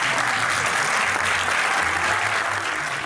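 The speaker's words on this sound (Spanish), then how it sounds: "Este aplauso va para la señora Valentina del Mar." Sustained audience applause for Valentina del Mar on a Mexican TV show, loud and even from start to finish, with a faint low hum beneath.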